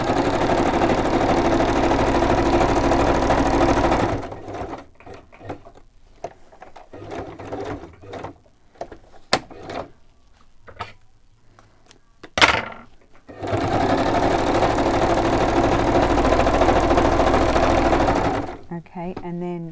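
A sewing machine stitches paper envelope pages in two long, loud, steady whirring runs close by, separated by a quieter stretch of clicks and handling noises.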